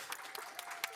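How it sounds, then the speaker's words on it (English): Brief applause from a university colloquium audience, a quiet spread of individual claps heard for about a second. "So let's give an applause for"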